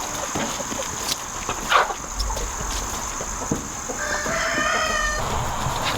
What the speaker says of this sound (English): Let me show you my chickens.